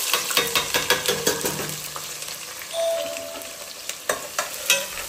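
Spices and onion fry in hot oil with a bright, crackling sizzle and a quick series of close spatula scrapes and taps, loud and near.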